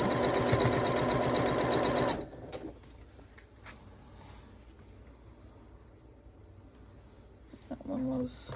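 A sewing machine runs fast and loud while piecing pumpkin quilt blocks, its rapid needle chatter lasting about two seconds before it stops. Quieter handling noises and a few small clicks follow.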